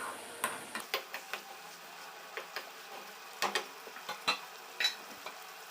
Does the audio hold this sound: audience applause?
no